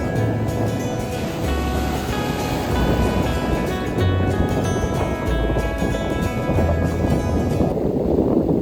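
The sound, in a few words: waves on Khavane beach, Vengurla, Konkan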